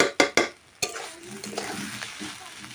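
Soybean curry with spices fries in a pan while being stirred: several sharp scraping knocks from a spatula at the start, then a softer sizzle with occasional stirring scrapes, close by.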